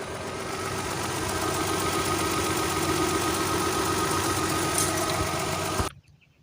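A minivan engine idles steadily while warming up, a constant close mechanical hum with a faint ticking texture that cuts off abruptly at the end.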